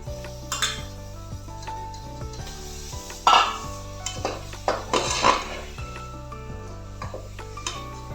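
Prawns sautéed and stirred in a pan for prawn rice, with repeated utensil scrapes and clinks against the pan over a steady background, a few louder stirring bursts mid-way, no talk.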